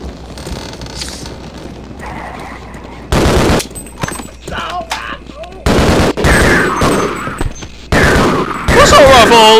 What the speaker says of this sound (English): Assault rifle, baby.